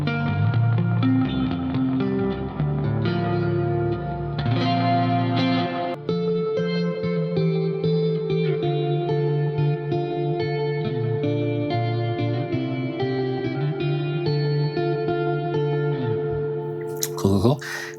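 Edwards by ESP electric guitar played through the neck pickup with the amp gain turned down, sustained chords and notes ringing steadily with effects-laden tone, loud and close, a brief sharp burst near the end.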